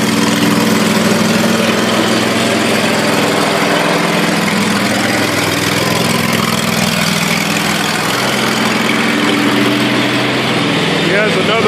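A small engine runs loud and steady under load, holding its pace without bogging, with a voice talking over it.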